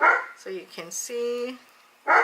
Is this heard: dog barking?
yes